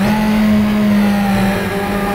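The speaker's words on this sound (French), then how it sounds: "Toujours très impressionnant le son de ces voitures" Race car engines in the Raceroom racing game hold a loud, steady high drone with a sustained tone, constant and close throughout with no talk.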